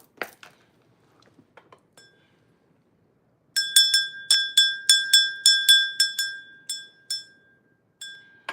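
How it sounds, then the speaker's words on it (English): An old heirloom bell, handed down through generations, is rung in a quick series of bright, clear metallic strikes with ringing overtones, loud and close, after a few soft handling clicks, with no voices. "That bell has been in my family for generations."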